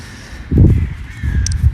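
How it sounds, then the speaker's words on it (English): Crow-like birds cawing, two harsh rasping calls in quick succession over a faint background hiss, fairly close and loud. "Birds."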